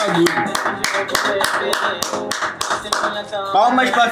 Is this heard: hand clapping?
yes